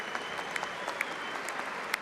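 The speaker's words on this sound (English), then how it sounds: "referee Marcus McDonough would like to show an appreciative round of applause for both boxers, please." Audience applauding both boxers at the end of a boxing match, a steady wash of clapping from a crowd in an indoor arena, moderately distant and even throughout.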